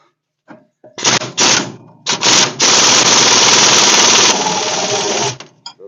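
Pneumatic impact wrench hammering big brake bolts tight on a Mopar disc brake conversion, loud rapid rattling bursts: two short blips, then a long sustained run that eases slightly before cutting off.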